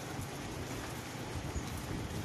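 Steady rain falls on a rural village, a dense, even hiss of drops hitting surfaces that holds close and constant throughout, with no voices.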